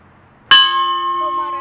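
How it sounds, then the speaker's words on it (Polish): One of several colored bells is struck once, giving a sudden bright clang that rings on with a steady, sustained metallic tone and slowly fading overtones, heard alone in a quiet room. "Ja uderzę jeden z dzwonów"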